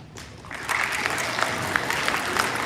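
An audience at a school award ceremony for a teacher's Milken Educator Award in New Jersey bursts into steady, dense applause after a brief quiet start, holding at an even level with scattered sharper claps.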